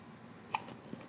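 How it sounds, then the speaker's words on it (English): A baby's single soft hiccup, faint and close, with a smaller catch just after, set against a quiet room hush. "Oh, the hiccups."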